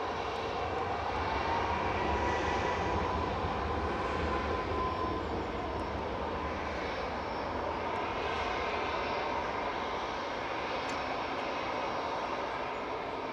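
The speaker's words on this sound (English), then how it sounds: "Etihad just coming over the threshold now and touching down" An Etihad Boeing 777-300ER lands at Manchester Airport, its engines giving a steady, moderately distant roar with a broad rumble that holds evenly throughout the touchdown, no voices.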